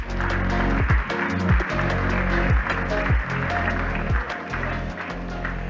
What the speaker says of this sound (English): Please join me in giving a warm round of applause to welcome Rhea Hamilton on stage